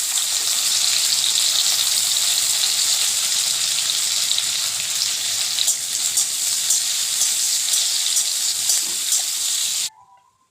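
Cashews and raisins fry in hot ghee in a kadai, giving a loud, close, continuous sizzle and crackle that runs unbroken for about ten seconds and then cuts off suddenly.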